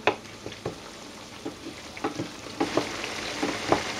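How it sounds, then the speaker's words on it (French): Chicken paprika with broth added, simmering in a pan: a soft, low bubbling and gentle sizzle with scattered light ticks and spoon taps, fairly quiet and close. "On va laisser mijoter encore 5 petites minutes."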